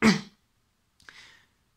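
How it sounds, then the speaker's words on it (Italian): A single sharp cough, followed after a brief pause by a second, softer throat-clearing cough, close and alone. "scusate la tosse"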